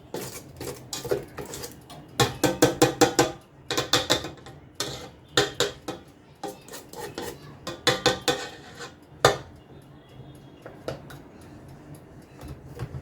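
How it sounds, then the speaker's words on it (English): A paddle attachment and bowl are taken off a stand mixer after mixing apple crumble cake batter, producing bursts of close metallic clinks, clanks and clicks with quiet gaps between them. "We'll remove our bowl from the stand mixer."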